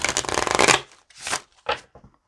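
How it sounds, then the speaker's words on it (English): A deck of Lenormand cards is shuffled by hand, close up: a dense, rapid riffle of fluttering card edges, then two shorter quick shuffles with brief pauses between. "What I'm gonna do is shuffle"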